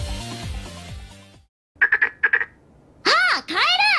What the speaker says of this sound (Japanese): ああ、カエル！